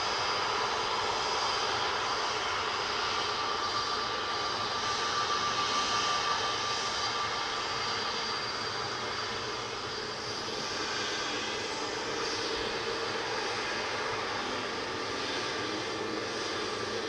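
An airliner taxiing at Manchester Airport gives a steady, loud jet-engine roar and whine that holds evenly for the whole stretch, with no talk over it.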